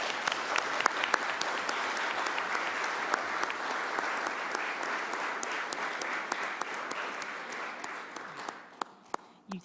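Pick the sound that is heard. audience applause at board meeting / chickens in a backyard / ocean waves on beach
audience applause at board meeting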